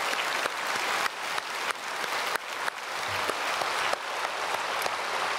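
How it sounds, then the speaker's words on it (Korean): Applause from a church congregation during a Sunday worship service, blessing the choir after their hymn. The clapping is continuous and fills the whole span at an even, moderate level. "박수로 축복하겠습니다."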